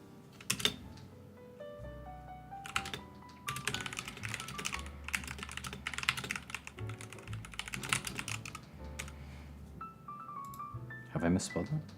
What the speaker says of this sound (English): Focus typing has begun.